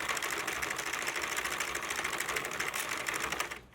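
Sentro knitting machine cranked through several rows, a continuous fast rattling clatter of plastic needles and gears, close and steady before stopping abruptly at the end.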